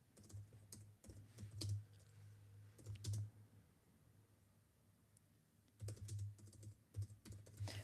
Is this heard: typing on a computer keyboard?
yes